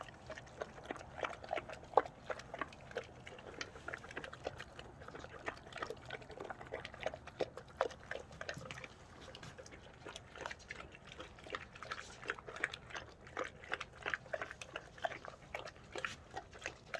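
A large Cane Corso chews dried pollock, with steady wet smacking and crunching bites in a dense, continuous rhythm, close and moderately loud.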